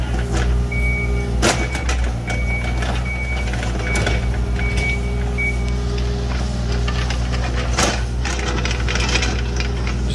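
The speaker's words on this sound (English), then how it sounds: "We had the breaker on the skid steer, and then the 230 digs it out." A Takeuchi TB230 mini excavator digging out rock on a Georgia grading site, with a steady engine drone, intermittent scraping and clanking bursts, and a reversing beeper sounding in a regular pattern nearby.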